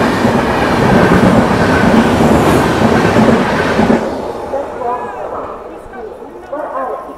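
The Secunderabad-Rajkot SF Express rushes past at close range with a loud, dense roar of wheels and carriages, then the noise drops off sharply as the train clears, leaving fainter rumble and scattered sounds.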